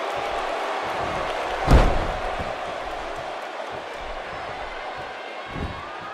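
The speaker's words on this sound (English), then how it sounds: "He slams him down with authority." In the WWE 2K18 video game, a wrestler is body-slammed onto the mat with one heavy thud, over a steady, distant arena crowd murmur, with a faint later thump.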